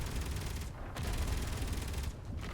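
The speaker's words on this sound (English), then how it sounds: "Oh, and I hear gunfire again" Turret gunfire in the Space Engineers game bursts in dense, continuous rattling volleys, loud and close, with brief gaps between the rapid shots.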